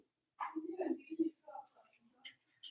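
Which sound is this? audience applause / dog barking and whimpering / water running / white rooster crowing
dog barking and whimpering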